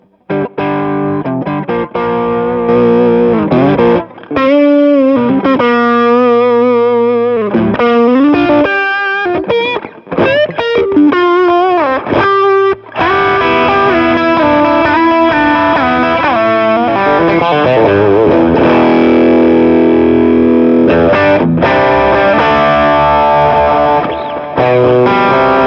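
Electric guitar run through an overdrive pedal, compressor, EQ and boost, ripping through distorted solo phrases with bends and fast runs, loud and continuous with brief gaps, no talking.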